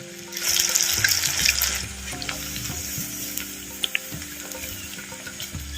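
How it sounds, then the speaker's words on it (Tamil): Cauliflower 65 pieces fry in hot oil with a bright, busy bubbling hiss that is loudest early on, then settles under a low hum and a few light clinks nearby. "அப்படியே எண்ணெயில் வேகட்டும்"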